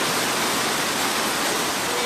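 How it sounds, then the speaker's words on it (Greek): Rushing floodwater pours through streets and shops in Old Nicosia, Cyprus, a loud, dense, unbroken roar of water with no voices. "οι οποίοι είδαν τα ορμητικά νερά να περνούν μέσα από τα υποστατικά τους"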